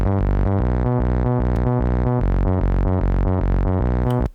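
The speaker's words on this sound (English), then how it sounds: "Then I'm having a Euro bass." Euro bass synth from a hardstyle remake plays alone in a steady, loud rhythmic pattern of short repeated notes with a pumping pulse, stopping abruptly near the end.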